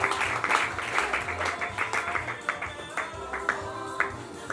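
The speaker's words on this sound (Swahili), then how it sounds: "basi anapokaribia tupige makofi anapokaribia" Congregation applauding at a church anniversary service as the pastor comes forward, a dense steady patter of many hands with cheers and voices mixed in throughout.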